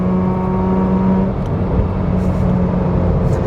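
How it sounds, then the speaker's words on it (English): Mazda RX-8 rotary engine dropping a gear on a twisty road: a steady, loud close-up engine drone whose pitch shifts partway through as the revs change, with no talk over it. "Let me just do a quick downshift here."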